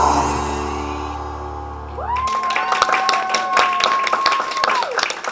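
Holiday park entertainment crowd clapping, music ending before a lively burst of applause and a sustained whoop or shout over steady clapping.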